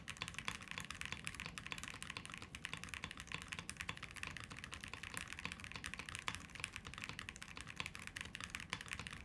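Rapid continuous typing on a Link65 mechanical keyboard, dense even keystrokes clicking close and quiet without pause.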